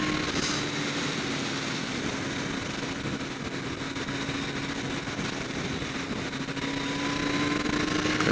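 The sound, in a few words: 2012 Kawasaki ZX-14R motorcycle engine under throttle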